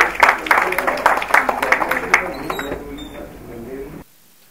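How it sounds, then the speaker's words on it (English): A crowd claps at a student film festival, dense and fairly loud at first, then thinning out and fading before cutting to near silence, with some talk mixed in. "Can we have a huge round of applause?"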